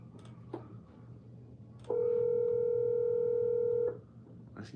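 A telephone line gives a single steady tone lasting about two seconds while a cold call is placed. A few faint clicks come before and after it against a quiet background hum.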